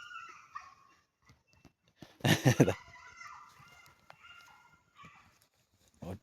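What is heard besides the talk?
dog barking outdoors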